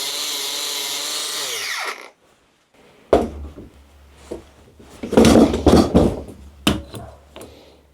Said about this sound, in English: I've cleaned up the front of that, but I can't get the grinder around the back